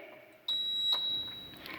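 Buzzer driven through a relay by a microcontroller circuit, a steady electronic tone starting abruptly and holding for over a second, close and clear, with faint background noise.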